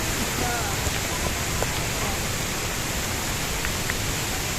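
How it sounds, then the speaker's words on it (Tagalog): Strong floodwater rushes near Bangon Falls, a dense, loud, unbroken roar of water that stays level throughout. "Lakas ng baha."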